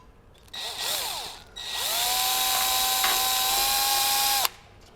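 A cordless screwdriver whirs in a short burst, pauses, then runs steadily for a few seconds with a rising then level motor whine, close by.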